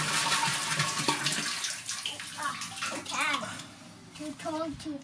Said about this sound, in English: to fill up our water tank inside the house